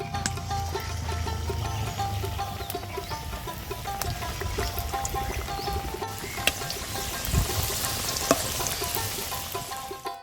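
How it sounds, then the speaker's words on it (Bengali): Food sizzling and crackling steadily in hot oil, with occasional stirring clinks over the continuous frying hiss. "বাকি সবগুলো এইভাবে ভেজে নেব।"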